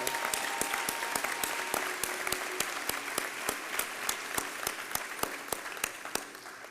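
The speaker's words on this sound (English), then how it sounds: "Please join me in another round of applause for our speaker." An audience at a law school hooding ceremony gives a speaker a steady round of applause, many hands clapping evenly for several seconds at a moderate distance, without speech on top.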